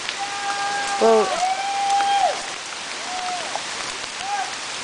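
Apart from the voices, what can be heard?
hail hitting a plastic kayak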